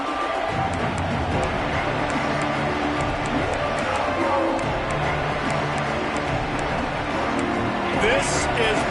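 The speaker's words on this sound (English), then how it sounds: "This crowd ready to make its presence known." A college football stadium crowd roars in a steady, dense wash of cheering after a kickoff return, with a commentator talking over the noise.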